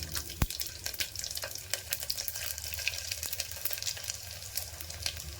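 Garlic, cumin seeds and black pepper sizzle steadily while frying in a pan, a continuous crackling hiss with small pops and spatters, close and moderately loud with no talk.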